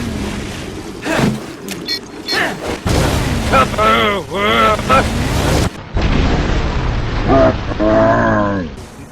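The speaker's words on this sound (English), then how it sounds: "Quint's melee move is simply a satchel charge, or timed explosive" A satchel charge, a timed explosive thrown as a melee move in the game Resident Evil: Revelations, goes off in loud booming blasts amid heavy game effects, with voices talking over parts of it.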